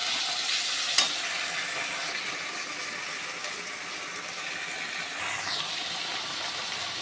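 Chillies and cabbage stirred and frying in a pan: a steady close sizzle with scraping stirs throughout, one sharp clack near the start and a brief rising hiss toward the end.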